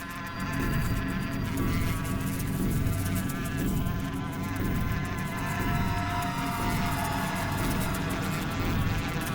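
Honeybees hum around a hive in a dark, quiet spot, giving a dense, continuous drone of many insects that stays close and steady throughout, with no one talking.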